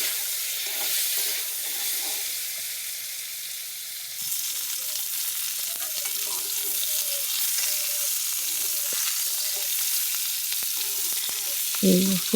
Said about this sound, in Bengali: রেসিপিটা হালকা করে সবগুলো ভেজে নেব।